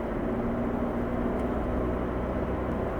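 A 2022 Hyundai Elantra N with DCT, exhaust in Sport mode, drones steadily from inside the cabin with a low, continuous engine tone, loud and unbroken with no talk.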